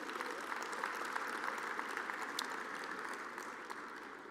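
An audience at a university athletics award show applauds steadily for several seconds, a dense wash of clapping that slowly tapers off near the end.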